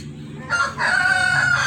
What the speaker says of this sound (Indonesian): Sini ayam biasa.